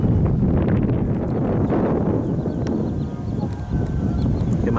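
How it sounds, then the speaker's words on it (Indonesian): Strong wind buffets the microphone outdoors in a loud, steady roar with low rumbling gusts that barely let up. "Karena kencang sekali anginnya."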